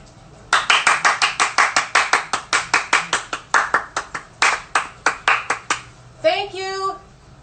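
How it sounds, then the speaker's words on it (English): One person claps fast and crisply at an open window in thanks to frontline workers, about thirty close, sharp claps in a quick steady run, then a brief spoken voice right after. "we clap quickly as a quick expression of thanks to all the frontline workers"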